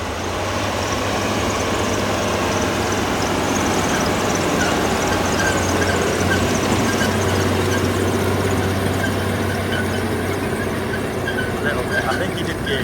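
A Quadtrac tractor engine labors under load while underbusting a field, a loud, constant drone with a steady low hum that holds throughout, the note barely changing.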